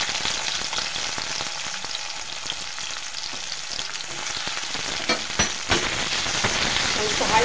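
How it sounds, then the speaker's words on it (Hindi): Onions and green chilies frying in oil on a high flame, a steady close crackling sizzle with a few stirring knocks and no talk. "हाई फ्लेम पे फ्राई करेंगे बस 2 मिनट।"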